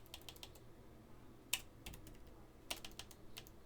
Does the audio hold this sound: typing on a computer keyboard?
yes